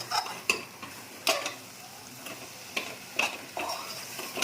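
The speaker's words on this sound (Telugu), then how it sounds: "ఒక్కసారి నెమ్మదిగా ఇట్లా కలుపుకోండి" A spoon stirs brinjal and dried prawn curry in a pan, giving a few sharp scraping clinks at irregular intervals over a faint background sizzle.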